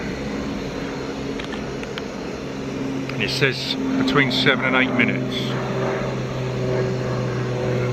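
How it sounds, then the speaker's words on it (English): A low-flying aeroplane drones overhead near Cheriton Wood, a steady distant hum that swells in the middle while someone speaks briefly over it at an outdoor cookout. "Low plane again."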